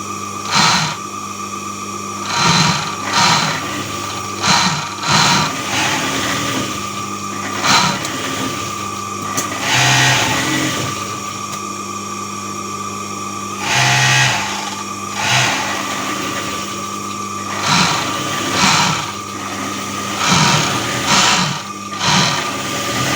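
Overlock sewing machine stitching fabric in a school activity room, running in repeated short bursts of rapid mechanical whirring that rise and stop, close and loud, with a steady background hum between runs.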